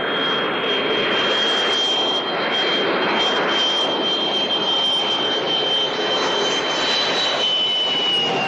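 An airplane engine roars loud and continuous during takeoff in a war action film, with a steady high whine running over a broad rushing noise.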